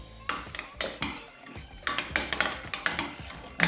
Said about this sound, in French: On remue bien évidemment